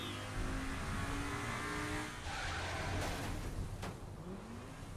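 A car in Saints Row The Third revs and skids with squealing tires, a sustained engine drone under screeching rubber, followed by sharp impact bursts as it slams into a wall.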